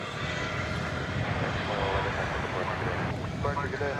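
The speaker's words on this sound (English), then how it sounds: "we've got a little propeller action here, just momentarily here" A propeller aircraft drones at DFW Airport, a steady engine rumble with a rhythmic propeller beat that grows slightly stronger toward the end, heard under ongoing conversation.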